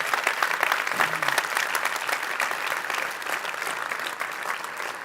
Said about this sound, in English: Let's show our gratitude to the Beaz team with a warm round of applause.